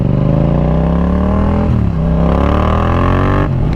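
A Yamaha FZ-07 motorcycle engine runs while being ridden, loud and close, its pitch climbing steadily, dipping briefly with a gear change, then climbing again before another shift.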